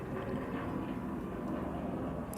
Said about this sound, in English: I say this like you can't hear a heckin' helicopter right now.